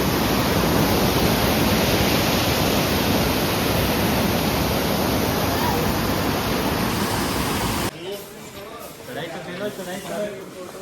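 Water pours from above onto a mountain pilgrimage path on the Katra to Vaishno Devi trek, a loud steady rushing for about eight seconds before it cuts off abruptly, leaving quieter background with faint voices.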